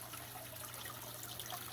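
Water trickles steadily through the waterfall feature of a home aquarium, a soft continuous wash with a low hum underneath and no voices.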